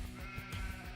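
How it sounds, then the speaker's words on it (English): Black sheep in Farming Simulator 25 let out a brief, wavering bleat, close and clear over a steady low background drone. "Yeah, we got black sheep."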